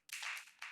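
Two crisp clap samples from a house music mix at 126 bpm, heard dry and alone, the second shorter than the first.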